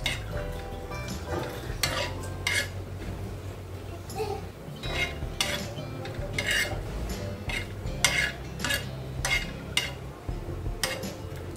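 Grated coconut roasting in a hot pan while a spoon stirs it continuously, giving repeated scraping clinks against the metal over a soft sizzle. The strokes come in a quick, uneven rhythm and no one speaks.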